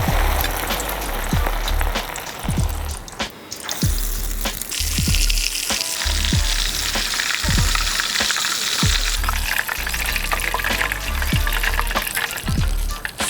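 Crocodile meat coated in flour and dipped in egg fries loudly in hot oil, a dense steady sizzle with crackling pops running throughout, close and continuous.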